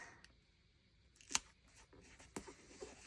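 A pair of scissors trims the stem of a paper flower, giving two or three quiet, sharp snips spaced apart against a still, near-silent background.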